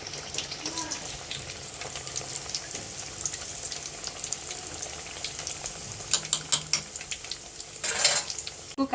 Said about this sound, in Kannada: ನೋಡಿ, ಇವಾಗ ಎಣ್ಣೆ ಕಾದಿದೆ, ಹಾಕ್ತೀನಿ.